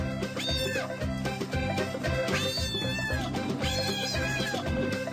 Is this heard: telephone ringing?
no